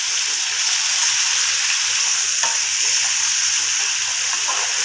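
Minced meat fries with garlic in a pan, giving a loud, dense and continuous sizzle up close, with faint stirring scrapes underneath and no talking.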